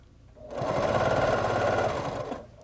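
Sewing machine runs steadily, stitching bias binding onto a quilt, a continuous close motor whir lasting about two seconds between brief quiet moments at either end.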